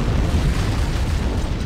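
An antimatter charge explodes aboard a ship in Halo: Combat Evolved, a loud, close, rumbling blast that fills the whole moment with heavy low-end boom and debris noise.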